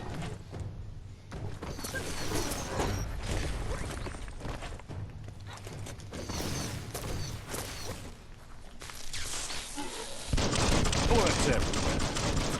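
Gunfire in the video game Biomutant, with bursts of rapid shots and impacts coming in clusters, loudest toward the end, alongside game effects and occasional talk.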